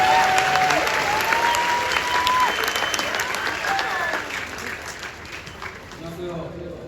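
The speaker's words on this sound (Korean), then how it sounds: "큰 박수로 맞이해주시길 바랍니다." A stadium crowd claps loudly to welcome retiring pitcher Oh Seung-hwan at his number-retirement ceremony, dense applause ringing on and slowly thinning, with cheers and a few raised voices mixed in.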